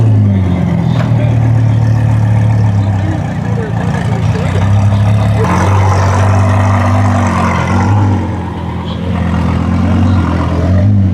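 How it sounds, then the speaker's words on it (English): A Lamborghini Revuelto drives past, its engine rising and falling in a loud, mid-pitched growl that swells twice as it goes by, with people talking over it. "there goes that Revuelto."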